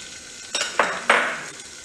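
Finely chopped ginger dropped into hot refined oil in a kadai, erupting into three quick sizzling bursts that hiss close and loud before settling into a softer crackle, with no talking.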